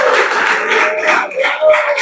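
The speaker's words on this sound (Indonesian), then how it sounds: "Beri tepuk tangan" Classroom applause, with a group of students clapping in a steady, dense patter close by, continuing throughout without talk.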